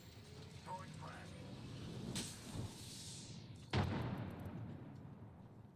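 A frag grenade thrown in Apex Legends lands with a thump and then bursts in one loud, booming explosion late in the clip, over steady game ambience and a voice speaking.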